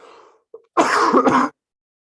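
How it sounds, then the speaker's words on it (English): A single harsh cough, close and abrupt, follows a brief throat noise, then silence. "bit of a cough here"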